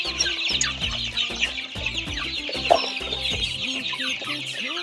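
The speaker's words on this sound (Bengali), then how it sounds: "সকালবেলা আমাদের টাইগার মুরগি দেখেন বাচ্চাগুলা খাবারের জন্য" Many tiger-breed chickens and chicks cluck and peep over one another at morning feed, a steady, moderately quiet flock chorus with short clucking bursts and no talk.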